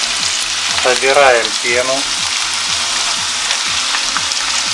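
Onion and carrot sauté in oil in a pan for salmon fish soup, giving a steady, close sizzle throughout while a voice speaks briefly over it.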